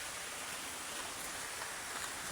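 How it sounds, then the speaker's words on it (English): Rain falls steadily outdoors as a soft, even hiss of drops, faint and continuous with no voices. "the rain is just raining and the work is just ongoing"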